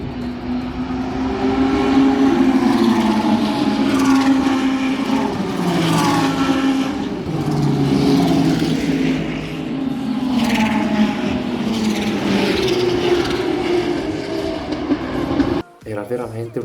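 GT3 race cars race at the Misano circuit, their engines producing a loud, continuous roar that rises and falls in pitch as the cars pass, with faint voices underneath.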